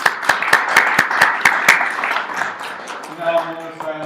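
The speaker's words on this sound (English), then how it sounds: "Can we get a round of applause for Sheeta for this wonderful presentation?" Applause at a Mac user group meeting after a presentation on macOS High Sierra: a few loud, evenly spaced claps near the microphone over a wash of smaller clapping that fades out, followed by talking.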